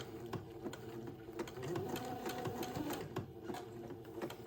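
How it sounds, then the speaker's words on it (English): Sewing machine zigzag stitching along an entredeux ladder on a gown, a steady close mechanical whirr with rapid rhythmic needle clicks running throughout. "I'm going to zigzag along the entredot ladder to hold the back piece in place"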